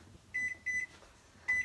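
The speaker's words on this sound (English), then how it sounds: "I'm put this in the microwave for 1 minute" A microwave oven reheating kimchi for one minute gives a few short, clear electronic beeps in a quiet kitchen, spaced in quick bursts.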